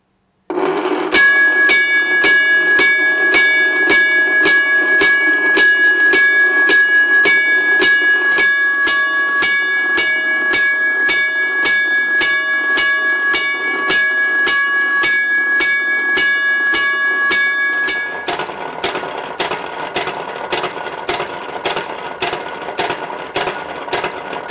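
A Chicago and North Western railroad gong bell clangs in a rapid, steady rhythm for a long stretch, its hammer striking in a continuous cycle, loud and close with metallic overtones lingering between strikes.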